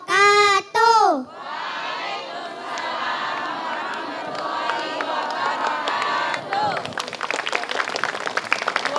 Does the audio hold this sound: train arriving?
no